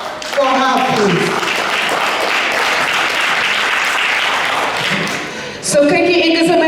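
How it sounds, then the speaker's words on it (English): An audience at a Youth Day celebration event breaks into loud, sustained applause lasting several seconds, with a voice speaking just before it starts and again as it dies away. "Ms. Jacqueline Tamri, a round of applause for her, please."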